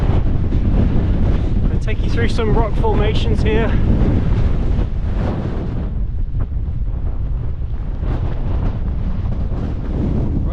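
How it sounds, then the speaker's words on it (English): Strong gusts roar across a hill ridge in winter near rock formations on the Roaches, buffeting the microphone loudly and constantly while someone talks over it. "It's super windy now."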